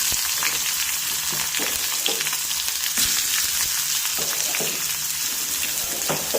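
Chopped onion and curry leaves frying in a pan for a chayote stir-fry, a dense, rain-like crackling sizzle running steadily throughout, close up, with faint spoon stirs and no voices.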